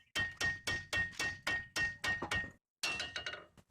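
Heavy blows from a big hammer on a Ford Focus steering knuckle during front hub and wheel bearing work, about ten sharp metallic strikes in a steady rhythm, a short pause, then a faster burst of hits, loud and close.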